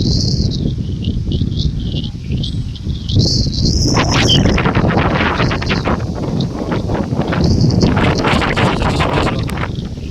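Strong gusty wind roars across the microphone ahead of a dust storm and pre-monsoon rain under dark clouds, a continuous dense rushing noise with swelling gusts throughout and no talking.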